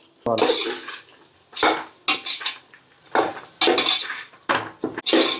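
Soya chunks (meal maker) stirred in a pot of hot oil for a vegetable pulao, giving repeated bursts of scraping and clinking from a utensil against cookware, separated by short pauses.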